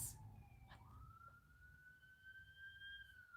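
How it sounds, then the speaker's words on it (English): Emergency vehicle sirens wail faintly outside a house as they pass by, a steady rising and falling tone heard at a distance with no speech. "there are sirens."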